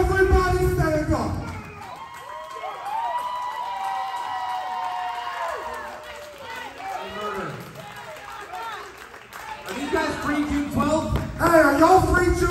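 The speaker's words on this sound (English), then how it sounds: "Larry, you stand up and you cheer them too!" Crowd at a Southern States Pro wrestling show cheering and shouting loudly and continuously, with whoops and yells rising and falling across the whole stretch.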